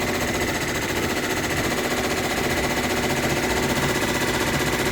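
An embroidery machine stitching a wall hanging runs in a dense, continuous, rapid mechanical chatter, loud and close with a steady rhythm throughout.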